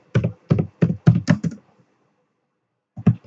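Fingers typing on a computer keyboard, a close, crisp burst of about seven keystrokes in quick rhythm, a pause of silence, then a few more taps.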